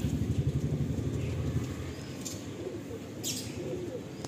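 Male Fulsira pigeons at a Kolkata pigeon sale coo in low, throaty, continuous rumbles, close by, over a busy background hum with a few faint chirps.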